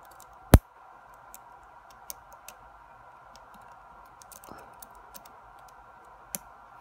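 Faint, sparse clicks from an Abus 83AL/45 padlock being picked, with one sharp louder snap near the start and a few soft ticks spaced irregularly over a quiet background.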